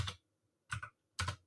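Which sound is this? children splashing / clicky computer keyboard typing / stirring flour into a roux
clicky computer keyboard typing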